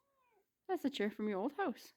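A cat gives a soft, short meow in a quiet room, and then a person starts talking close by.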